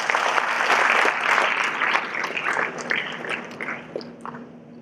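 Audience applause for a professor invited to give a prayer at a foundation programme, loud and dense at first, then thinning into scattered separate claps as it fades out.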